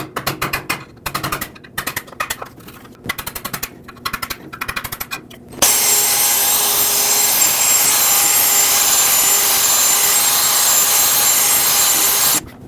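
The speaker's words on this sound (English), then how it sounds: "Let's pry off this gasket and clean up the surface." Hand tool working an old gasket off a Lexus IS250 exhaust pipe: rapid, close scraping strokes in short rhythmic bursts, then a steady, loud continuous grinding-like scrape for the rest.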